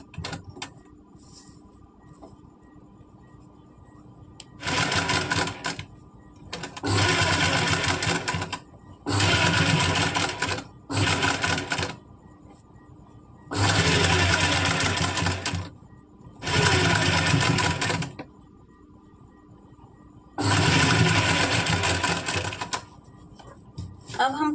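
A sewing machine stitches a collar on a kurti in repeated bursts of a few seconds each, close and fairly loud, separated by quiet pauses with faint handling.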